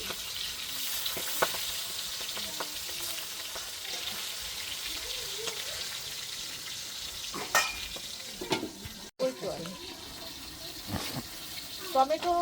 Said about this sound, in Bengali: একটা মাছ ভাজতে কড়াই গরম করি তারপরে মাছ